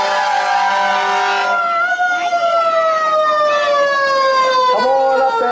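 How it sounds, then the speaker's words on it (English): A fire engine siren wails loud and close, its sweeping tone gliding steadily downward as the truck approaches, with an engine hum beneath. "You hear the siren saying, please move out of the way."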